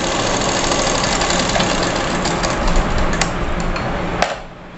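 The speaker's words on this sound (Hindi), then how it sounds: "एक सिलाई लगा के लंबा टाका लगाएंगे बिना कपड़े फोल्ड किए" A sewing machine runs steadily, stitching long stitches through a single layer of unfolded fabric for a girl's frock; a continuous close mechanical hum with a rapid knocking rhythm, and the motor stops near the end.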